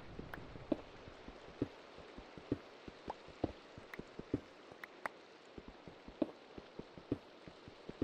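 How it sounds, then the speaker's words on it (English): Rain falls in the video game Minecraft, a soft steady hiss with scattered sharp drip taps, faint and continuous with no one talking. "It's raining?"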